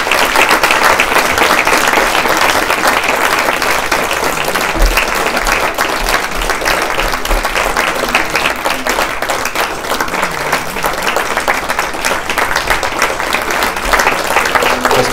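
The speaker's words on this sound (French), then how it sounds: "nous allons applaudir tous les deux" An audience applauds two Tahitian artists at a Ho'oponopono and sacred ancestral chant event, sustained dense clapping from a large crowd that holds steady throughout.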